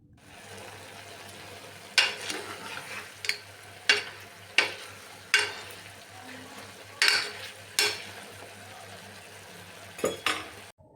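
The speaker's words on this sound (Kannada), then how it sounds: "ನಾವು ಒಗ್ಗರಣೆಯಲ್ಲೇ ಫ್ರೈ ಮಾಡ್ಕೋತಾನೆ ಇರಬೇಕು" Mutton tripe (boti) fries in a spiced tempering, with a soft background sizzle broken by about nine sharp, irregular scrapes and clatters of a spoon stirring against the pan; no voices.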